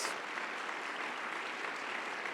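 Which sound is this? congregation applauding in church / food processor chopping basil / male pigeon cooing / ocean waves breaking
congregation applauding in church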